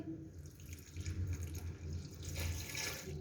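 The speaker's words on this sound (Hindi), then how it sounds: "अब 2 गिलास पानी ऐड करेंगे।" Two glasses of water poured into a pressure cooker holding onions, garlic-ginger paste and spices for chicken haleem, a soft, steady splashing pour lasting a few seconds with no talk.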